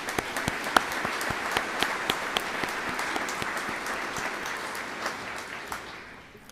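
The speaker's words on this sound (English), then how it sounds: "Let's give these students a well-deserved round of applause." A graduation ceremony audience applauds in a sustained, dense wash of many clapping hands with a few sharper individual claps standing out, fading slightly at the end.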